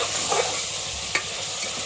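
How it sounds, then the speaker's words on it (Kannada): Spinach and fenugreek fritters fry in hot oil with a dense, constant sizzle and crackle, and a spoon stirs briefly now and then, close up and with no talk. "ಎಣ್ಣೆ ಒಳಗೆ ಹಾಕಿದೆ ಅಂತ ಹೇಳಿದ್ರೆ ವಾಸಿ ಜಲ್ದಿ ಫ್ರೈ ಆಗ್ತಿದ್ರಿ"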